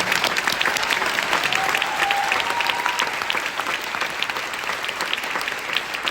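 Sustained, dense clapping from a theatre audience at the curtain call of a stage play by a performing arts academy, steady and full throughout with no voices above it.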